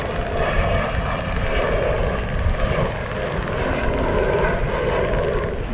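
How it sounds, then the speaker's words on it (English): Pretty large rear hub motor of an electric bike running in pedal assist, a steady whirring drone with broad rumble that holds evenly and fairly loud throughout, alone without talk. "The first thing I'll show you is kind of the back wheel with that pretty large motor."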